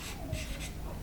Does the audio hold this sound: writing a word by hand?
yes